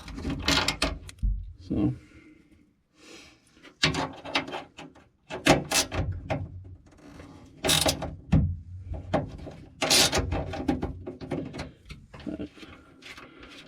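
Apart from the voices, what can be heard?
10mm stubby flex head wrench removing car bolts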